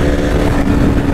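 A Kawasaki Z900 motorcycle ridden through city streets, its engine giving a loud, steady drone with no clear revving swells.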